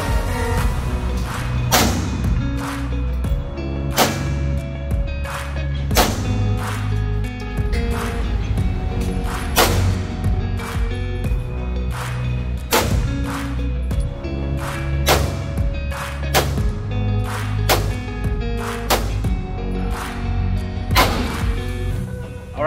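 Gunshots ring out at an indoor shooting range, a long series of loud, sharp reports at irregular intervals, some in quick clusters, echoing over a constant low rumble.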